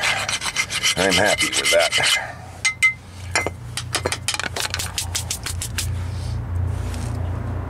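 A brush scrubs rust off the front brake parts of a 2006 Toyota Corolla in a series of close, harsh rasping strokes, starting as a dense burst and then breaking into short, quick scrapes, with a brief spoken remark partway through.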